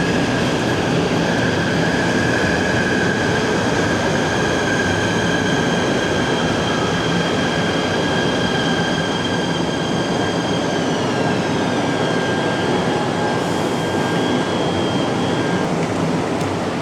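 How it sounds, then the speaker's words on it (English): Steady loud rumble and rattle from inside a moving Malaysian KTM Komuter commuter train, with continuous wheel and track noise and high squealing tones drifting in pitch, no talking. "I've never been on a Malaysian commuter train before, which is what we're getting on now"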